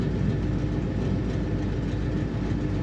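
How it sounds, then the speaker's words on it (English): A 1968 Pontiac GTO convertible with a four-speed manual, its engine exhaust giving a loud, steady low rumble that runs without a break and with no voices over it. "It sounds amazing just listening to that exhaust"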